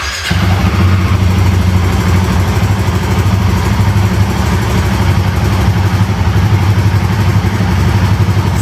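A Royal Enfield Himalayan 450 motorcycle, left standing for about 45 days, fires up on a single electric start and settles into a loud, close, steady thumping idle.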